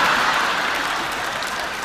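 An audience applauds with dense, sustained clapping that stays loud and even throughout, fading only slightly at the end.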